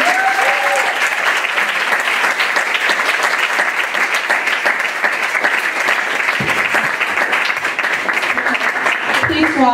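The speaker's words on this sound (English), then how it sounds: "Can we have one more round of applause?" Sustained, loud applause from a church congregation during a service, dense steady clapping filling the room for the full stretch without pause.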